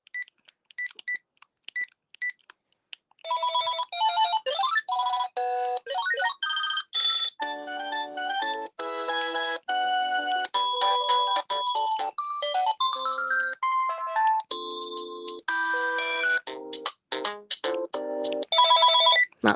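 Electronic ringtone from a Panasonic phone, a fast sequence of bright synthesized beeps and chirping notes playing continuously and alone after a few sparse opening tones.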